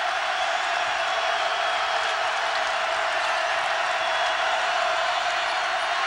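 Basketball arena crowd at a Pitt Panthers versus West Virginia Mountaineers game in Morgantown, a steady loud roar of cheering and applause that holds evenly throughout with no pause.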